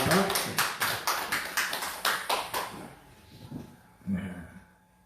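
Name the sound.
congregation clapping in welcome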